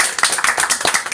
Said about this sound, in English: Can we get a round of applause for Trish?